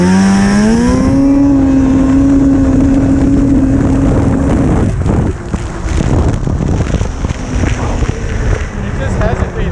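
A 1998 Arctic Cat snowmobile engine revs hard at full throttle, a loud, close, rising drone with strong tonal harmonics that climbs over the first seconds, then turns rougher and more broadband, with wind buffeting across the microphone.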